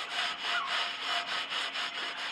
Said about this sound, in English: I'm gonna scrub what little bit I can off